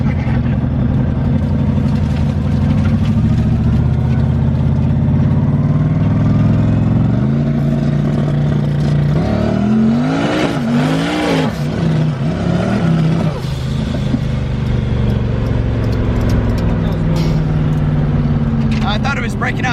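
A 1000+ horsepower Foxbody car engine revs hard and breaks up, its loud mechanical roar rising and wavering with rough stuttering surges, while people talk over it.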